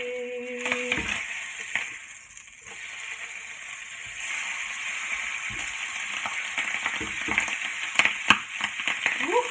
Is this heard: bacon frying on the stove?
yes